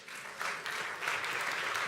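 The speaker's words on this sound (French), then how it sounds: "on peut les applaudir." Audience applause at a startup pitch battle at a tech festival, steady dense clapping from a crowd that swells slightly midway and continues throughout, fairly close and uninterrupted by talk.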